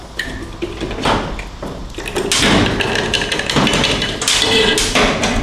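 Metal strikes ring out as a tool is hammered into the seam of a 68RFE transmission case to split it, several sharp close whacks with clatter and thuds in between.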